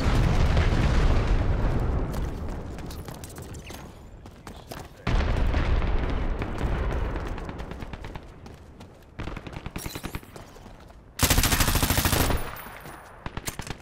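Loud bursts of explosive blasts and rapid gunfire from the video game Dirty Bomb, with a mine detonation among heavy, chaotic combat noise that surges and drops over the span.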